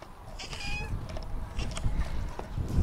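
A cat meows loudly outdoors, several short, close, insistent cries spread across a few seconds over rustling background noise.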